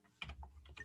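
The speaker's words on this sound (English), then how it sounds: "My keyboard's all messed up." Brief bursts of typing on a computer keyboard, a few quick clustered keystrokes heard close and fairly quiet in a room.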